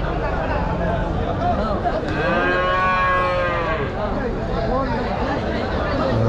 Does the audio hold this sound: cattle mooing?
yes